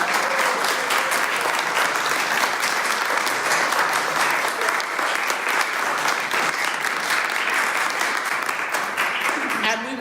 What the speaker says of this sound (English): I want to ask you to give them a round of applause.